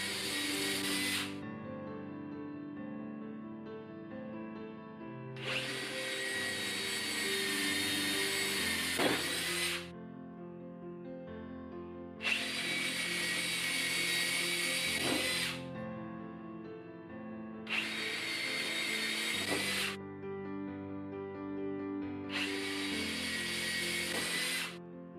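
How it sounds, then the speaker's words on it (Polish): Drill bit boring into a pine timber beam, a cheap Parkside twist bit under test: four long, loud bursts of high-pitched whining cutting, each several seconds, separated by quieter gaps of the drill motor running. "Zacznijmy od wiercenia w kantówce sosnowej."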